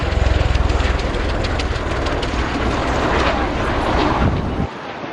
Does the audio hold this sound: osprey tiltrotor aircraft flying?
yes